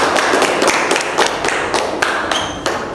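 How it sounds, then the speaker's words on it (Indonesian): A classroom of children claps together in a quick, uneven burst of taps during a science lesson, fairly close and continuous for a few seconds. "Ayo berikan tepukan."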